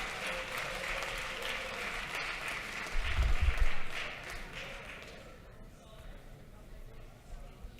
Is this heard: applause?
yes